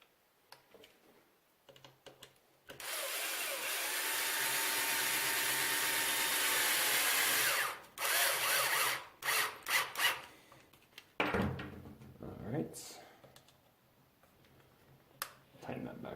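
Screws are tightened on an Arrma Senton 4x4 RC car's rear bumper, with a sustained whirring run followed by short clicks and scrapes of tool on plastic, fairly quiet and close.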